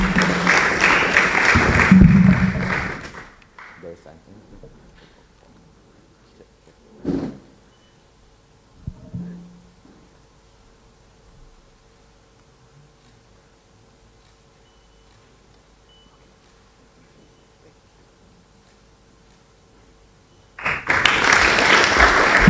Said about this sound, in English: Shall we continue to give a clap of hands for both Mr. Kisei and Mr. Stevens, Charles